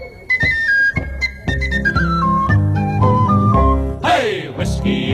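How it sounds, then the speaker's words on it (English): A tin whistle plays a bright, lilting melody in an Irish drinking song about whiskey. It is loud and up front over guitar and bass accompaniment, with a burst of strummed or sung sound near the end. "Great tin whistle playing too."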